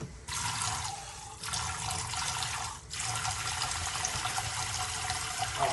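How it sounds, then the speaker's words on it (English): Tap water runs steadily into a cooking pot as leftover sous vide stuffed chicken with mushroom soup is prepared, a broad continuous splashing flow that briefly drops twice before resuming, close and alone without talk. "I'm gonna add a little water to it."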